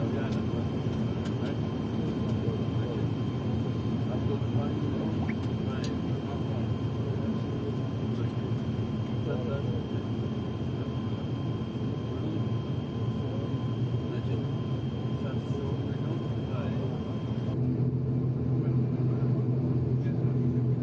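Steady droning rumble of twin turboprop engines inside the cabin of a Silk Avia ATR 72 airliner, continuous and loud with a faint high whine, shifting slightly in tone near the end.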